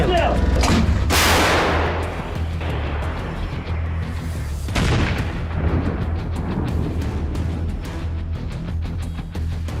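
A Krab self-propelled howitzer fires: a massive, booming artillery blast erupts early, followed by a second heavy report and rumbling echoes over a constant low engine drone.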